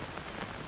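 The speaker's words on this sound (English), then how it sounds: "Immediately, rain soaks through the shoulders of my shirt and dampens my hair." Rain falls as a sound effect in an audio drama, a brief, dense, steady hiss of drops spattering on surfaces with no voices over it.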